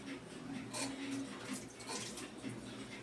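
Tap water running over tomatoes in a kitchen, a soft continuous splashing stream with faint clatter, quiet and steady throughout.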